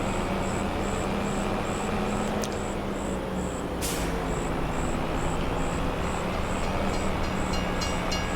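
A train rolls past in Farming Simulator 25, a steady loud rumble of wheels and cars with a high rhythmic ticking and a couple of sharp metallic clanks, no talking.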